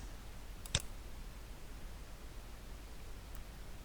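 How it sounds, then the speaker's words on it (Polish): A single computer mouse click on a register button, short and sharp near the one-second mark over faint hiss, with a much softer click later. "Klikamy zarejestruj."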